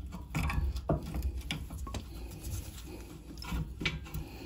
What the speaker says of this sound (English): Just prise the caliper off.